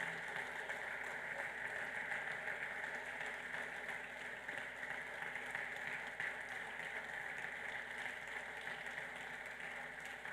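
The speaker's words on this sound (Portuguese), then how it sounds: "Você pode aplaudir a Deus por isso?" A church congregation applauds in a continuous, even wash of clapping, heard from some distance and sustained without a break for about ten seconds.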